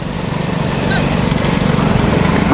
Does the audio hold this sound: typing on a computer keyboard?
no